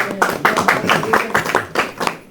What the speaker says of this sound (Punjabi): ਤਾੜੀਆਂ ਮਾਰੋ ਸ਼ਾਬਾਸ਼